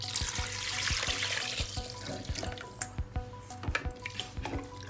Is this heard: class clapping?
no